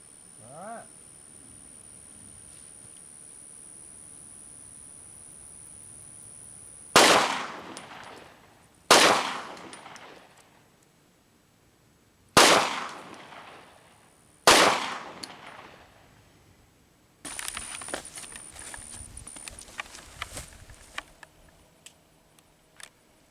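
Smith & Wesson M&P Shield 2.0 pistol fired at an outdoor range, four loud, sharp, widely spaced gunshots ringing out, then a burst of rapid clatter and small impacts, with no talk heard.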